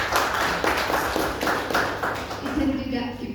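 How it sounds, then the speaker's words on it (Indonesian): Applause and scattered clapping from an audience at an Indonesian school-practice sharing session, brisk irregular claps filling the room under ongoing talk. "Kita kasih aplaus."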